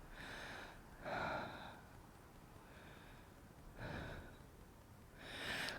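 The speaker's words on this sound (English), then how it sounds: "Take another breath here." Faint breathing during a yoga flow, several soft breathy inhales and exhales at an even pace under a low background hiss.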